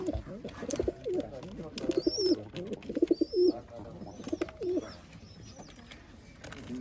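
Old line pigeons cooing nearby, several soft, throaty rolling coos in uneven bursts, with occasional higher chirps and faint background rustle.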